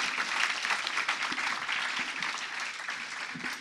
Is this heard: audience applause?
yes